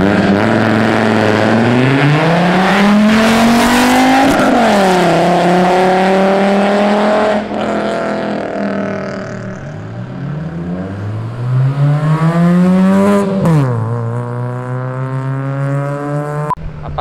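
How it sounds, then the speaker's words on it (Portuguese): A Golf GTI engine roars loudly as it accelerates hard through rising revs, with several sweeping climbs and drops as gears change across a sustained, close run. "poucos carros conseguem ter o ronco perfeito que o Maré tem"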